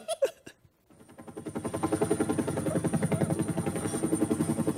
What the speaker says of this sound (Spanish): Tengo un helicóptero.